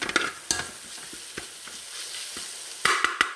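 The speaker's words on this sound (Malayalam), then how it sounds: "ഇഞ്ചിയും വെളുത്തുള്ളിയും പച്ചമുളകൊക്കെ ഇവിടെ ചെറിയ തീയിലിട്ടിട്ട് നന്നായിട്ട് മൊരിഞ്ഞുകൊണ്ടിരിക്കുകയാണ്" Ginger, garlic and green chillies fry on a low flame for mutton biryani, giving a soft steady sizzle, with several sharp clatters of a spoon stirring against the pan near the start and a cluster near the end.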